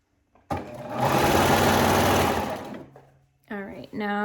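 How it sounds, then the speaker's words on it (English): A serger sewing machine stitches jogger fabric in one fast, steady whirring run of about two seconds, winding down to quiet, followed by a short burst of a voice. "serging."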